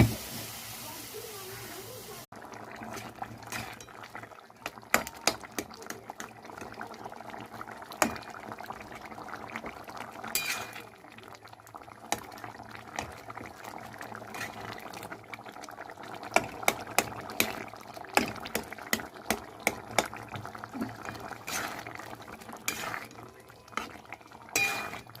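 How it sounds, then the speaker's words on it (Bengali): Potatoes with turmeric and salt simmering in a little water in a pan for aloo posto, a steady bubbling hiss with frequent clinks of a spoon against the pan throughout. "জল ঢেলে সেদ্ধ করতে হবে অল্প"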